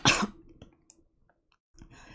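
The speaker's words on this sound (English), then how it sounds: "Every so often, he coughed like this." A single sharp cough from the character Lucas in the video game Virche Evermore, close and brief, followed by faint clicks and near silence before a soft breathy sound returns.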